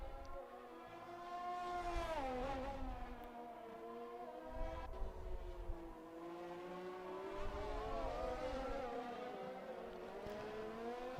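F1 2020 video game race cars on track at Bahrain, several engines whining and shifting pitch continuously as cars accelerate and pass, loud and sustained throughout.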